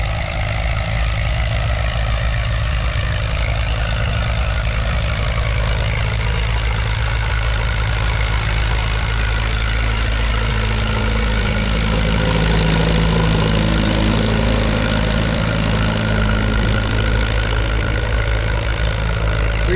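An Allis-Chalmers tractor engine idles at a plow day with an AC bottom plow, a loud, steady low rumble with a constant throb that holds through the whole stretch, with no talk over it.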